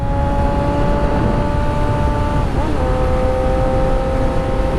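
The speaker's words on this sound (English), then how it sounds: "the bike sounds nice at quick shifter" A Suzuki GSX-R 1000 sportbike is ridden hard using its quick shifter, a loud steady engine tone under heavy wind roar with a brief pitch drop as it shifts gear and then carries on, with no talk.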